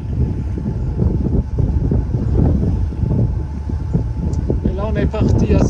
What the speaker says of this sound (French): ici le vent s'est levé en force 4,